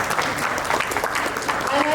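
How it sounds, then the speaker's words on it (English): An audience claps for a trade and investment official at a business entrepreneurship conclave, a steady roomful of applause lasting a couple of seconds, with talk mixed in underneath. "May we please clap for him"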